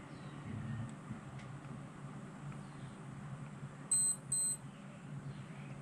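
A Shimano Grappler CT 151XG fishing reel's alarm sounds two short, thin electronic beeps in quick succession over a low background rumble.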